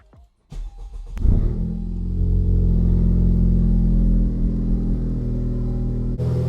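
Honda Civic Type R FK8 fitted with a PRL high-volume intake fires up after a short crank, flaring briefly before settling into a loud, steady idle heard up close, with a brief dip near the end.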